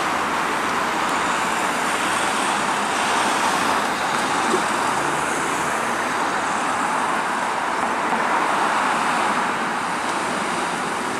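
An Enviro 200 bus pulls away from traffic lights on a street in Macclesfield, its diesel engine a steady, moderately loud drone mixed with surrounding road traffic and a little wind noise.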